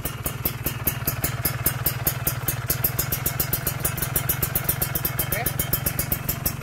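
A Kawasaki Ninja 2-stroke motorcycle engine runs steadily up close with a fast, even pulsing rattle, held at moderate revs throughout; someone says a brief word near the end.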